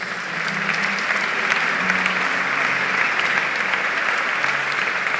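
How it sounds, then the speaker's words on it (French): A church congregation bursts into sustained applause, a dense wash of clapping hands that rises quickly and holds steady and loud throughout, with no voices standing out above it. "Acclamons le Seigneur Jésus"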